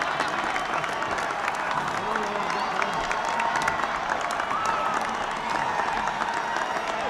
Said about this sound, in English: Look at the crowd way around there.